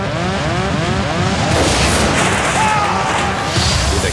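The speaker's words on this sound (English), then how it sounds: "With a huge explosion, the captain's windscreen blows out into the sky." A dramatised explosion as the captain's windscreen blows out on British Airways Flight 5390 at 17,300 feet: a sudden loud broadband blast followed by sustained roaring rush, with a voice heard before it.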